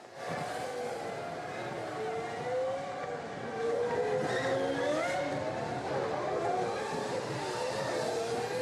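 IndyCar race cars sweep past on a circuit, several engines droning loudly and continuously with rising and falling pitch as they pass and bump over the curbs.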